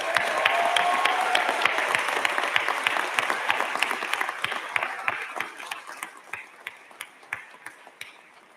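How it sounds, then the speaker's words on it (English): Audience at a 2023 WSU College of Pharmacy and Pharmaceutical Sciences commencement ceremony bursts into dense, sustained applause that slowly thins into scattered claps as it fades. "I think that deserves a big round of applause."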